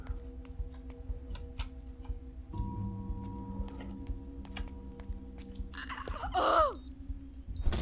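Alarm in the video game Project Zomboid sounding as a steady electronic tone under repeated ticking clicks, with a brief rising warble near the end and no speech.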